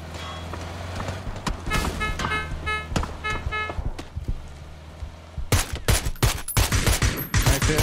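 Gunfire in the battle royale game PUBG from several shooters in a compound: scattered single shots at first, then dense, rapid bursts of loud cracks near the end, over a low steady game hum.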